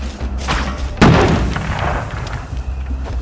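A grenade blast in a war video game: one loud boom with a sharp attack, then a rumbling decay under ongoing battle noise and distant gunfire.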